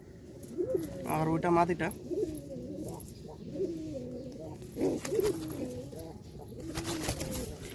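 Desi pigeons, a breeding pair kept for sale, coo in soft repeated rolling calls close by, with someone talking over and between them.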